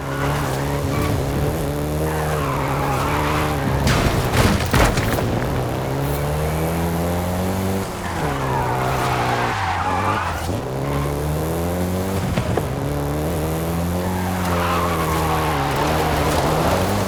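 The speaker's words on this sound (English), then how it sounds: "including the Golf GTI you're driving right now" Volkswagen Golf GTI in a racing video game, engine droning steadily with rising and falling revs while tires squeal and skid repeatedly, loud and continuous throughout with no talking.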